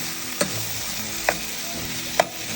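Ginger, garlic and green chili paste sizzling in a pan with a low steady hiss, broken by three short scraping stir strokes from a spoon, close and without talk.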